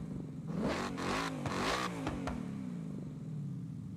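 A Coyote V8 car engine in a racing game revs up in rising, growling bursts through its exhaust, then settles back toward a lower idle rumble, close and loud.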